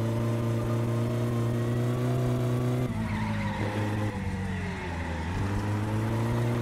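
Car engine droning loudly at steady revs while driving, then pitch shifting and sliding as the revs drop and climb again, with some tire noise, near and continuous.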